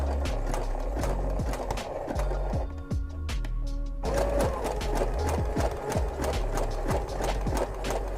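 A sewing machine runs steadily, stitching together fleecy, wool-like fabric pieces that stretch unevenly; the motor's loud rhythmic chatter carries on throughout with a brief pause midway.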